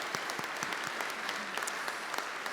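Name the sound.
audience applause at awards ceremony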